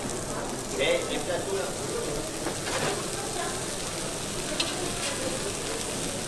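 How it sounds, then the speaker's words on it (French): Andouillette sausage sizzles on the side of a hot crêpe griddle (bilig) in Brittany, a steady crackling fry with faint stirring clinks, mid-distance and moderately quiet throughout. "On fait cuire l'andouillette sur le côté du bilic."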